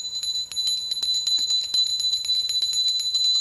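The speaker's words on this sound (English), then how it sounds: "One further thing, a little bell. Listen to the pitch." A small bell rings with a bright, sustained high tone, struck repeatedly in a quick, steady series of clear strikes, close and fairly loud, with a quiet low hum beneath and no talk.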